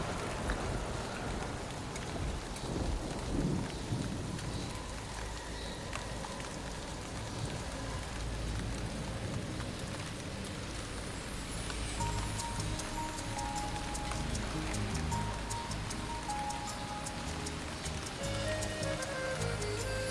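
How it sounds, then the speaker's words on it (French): Steady rain patters on surfaces throughout, a soft dense hiss with scattered drips, fairly faint; no clear thunder rolls stand out. "Maintenant, il se met à pleuvoir."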